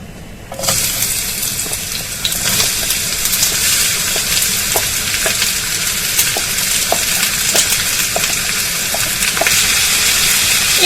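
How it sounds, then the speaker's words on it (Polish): Chopped onion tipped into hot oil in a frying pan bursts into a loud, continuous sizzle, crackling steadily with small pops and stirring sounds close by, no talking. "Olej nam się podgrzał. Wsypujemy cebulę."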